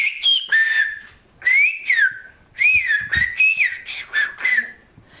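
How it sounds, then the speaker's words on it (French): A person whistles a melodic, speech-like phrase in whistled Occitan, sliding pitches rising and falling in quick groups with short pauses, clear and close. "mais aussi le sifflement en langue occitane"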